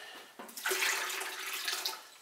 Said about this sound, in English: Got a little bit of warm water here,